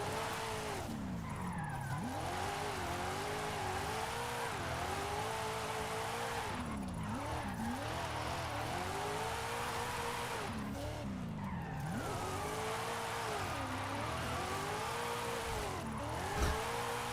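Car drifting down a mountain road in Forza Horizon 5, with engine revving up and down in repeated surges and tires squealing through slides, loud and continuous with no talk.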